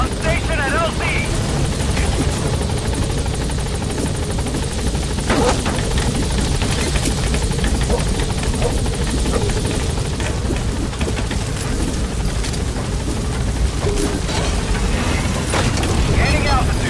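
In the Metal Gear Solid V game, a helicopter gains altitude with loud, constant rotor thrum and engine roar that fill the scene, while radio voices talk over it.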